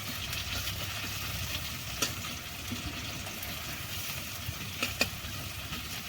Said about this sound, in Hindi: ତେଲ ଗରମ ହେଇଗଲା, ପିଆଜ ପଡ଼ିଗଲା। ପିଆଜ ଟିକେ ଭାଜିଦେବା, ତେଲଟା ଭୟଙ୍କର ଫୁଟୁଛି ରେ।